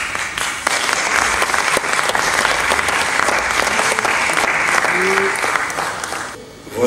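Sustained applause fills a film awards gala hall celebrating Congolese cinema in Kinshasa, a dense, steady roar of many hands clapping for several seconds before fading near the end, with a brief voice rising over it.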